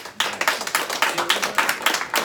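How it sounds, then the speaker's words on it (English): A small audience claps at a live event, a loose rhythm of distinct, fairly close hand claps without much crowd noise behind them. "give her at least a round of applause"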